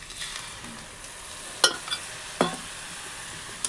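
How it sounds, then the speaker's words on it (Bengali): Milk and sugar are stirred in a pot, a soft low bubbling backdrop with two distinct clinks of a spoon against the metal rim and a few lighter scrapes, close and fairly quiet with no talking. "তারপর এই যে একটু নাড়া দিচ্ছি।"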